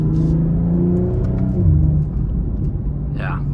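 A 2022 BMW M240i engine revs and its exhaust roars from inside the car while driving, the pitch rising and falling through acceleration, with a short sharp squeal near the end.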